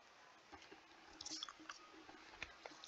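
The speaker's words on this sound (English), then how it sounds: "I'm sorry if y'all can hear me crunching." A person chews and crunches food close to the microphone, with soft irregular bites and squishy mouth sounds, fairly faint.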